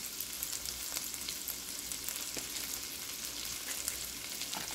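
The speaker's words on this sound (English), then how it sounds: "we're going to let this second butter melt" Garlic and butter sizzling in a pan over medium high heat, a soft, even crackling hiss with faint pops, steady throughout and fairly quiet, no voices.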